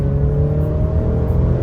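A 2022 Alfa Romeo Giulia Q4 Ti with a 2-liter turbo engine accelerating hard in dynamic mode on a wet winter road, a loud steady engine drone with a rising whir heard from inside the cabin.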